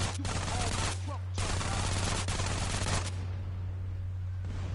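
Rapid Micro SMG gunfire from GTA San Andreas, loud, dense bursts of automatic shots with brief pauses between.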